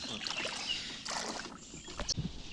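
A rowing boat moves on a river during crab-trap fishing, giving soft water splashes and oar strokes in steady outdoor wind with no talk.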